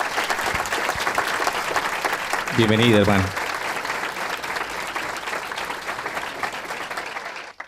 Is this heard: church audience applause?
yes